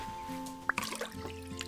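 Short liquid drips and a brief gurgle as water is fetched in the Big Farm Story farming game, a couple of sharp droplet plinks over soft background game music.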